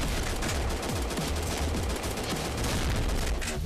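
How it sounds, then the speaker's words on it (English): Continuous rapid gunfire pours out in a video game as shots are fired at Shrek, a dense, loud, unbroken barrage lasting throughout. "How many bullets does it take to kill this fat bastard?"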